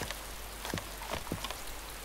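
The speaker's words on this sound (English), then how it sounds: "Oh, it's raining." Light rain in the DayZ video game on a windy mountain, a steady soft patter with a few sharper drops over a faint, constant background hiss.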